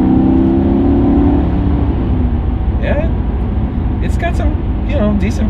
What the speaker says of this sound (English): We're gonna drive it like a civilized human being and stab the gas.